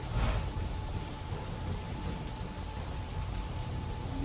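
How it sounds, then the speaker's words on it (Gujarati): Rain falls steadily across an industrial area of Ankleshwar GIDC in Gujarat, a continuous soft hiss of drops without a break, at a moderate distance. "અંકલેશ્વર જીઆઈડીસીના વિવિધ વિસ્તારોમાં વરસાદ વરસ્યો."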